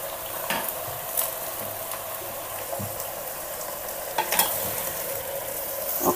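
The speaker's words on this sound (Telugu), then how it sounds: "ఒక్కసారి బాగా కలుపుకోవాలి." Vegetable soup with greens such as gongura and moringa leaves stirred in a pot, a soft continuous scraping and sloshing with faint sizzle, a few light clicks of the spoon against the pot, no voices.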